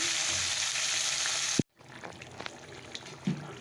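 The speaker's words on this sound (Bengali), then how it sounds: "তো চলো আস্তে মাছগুলো ভেজে নেই" Fish frying in oil in a kadai, a close, steady sizzle that cuts out briefly, then returns more softly with a few scattered pops and clinks.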